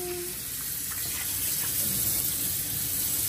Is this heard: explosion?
no